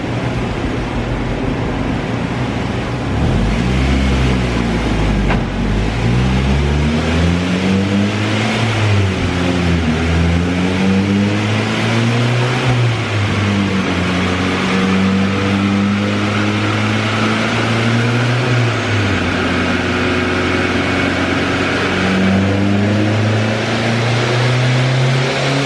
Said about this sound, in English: pull number 2, pulled some fuel out of the tune, so it's not as rich, and we are going to see what she lays down for power now